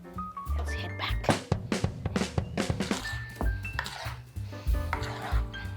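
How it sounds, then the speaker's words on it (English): A utensil works through hot glass noodles with BBQ lobster in a pot or bowl for a yum woon sen salad, giving steady clinks, scrapes and metallic knocks, close and moderately loud with a faint sizzle beneath. "Do a nice stir whilst it's nice and hot"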